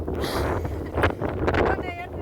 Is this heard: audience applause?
no